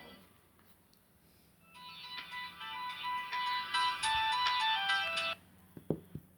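A mobile phone ringtone plays a tinkling electronic melody during an online maths class. It rises from a quiet room, carries on for about three and a half seconds at low volume, then stops abruptly.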